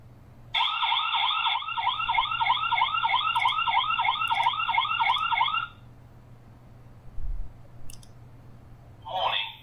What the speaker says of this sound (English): Or you could do the siren.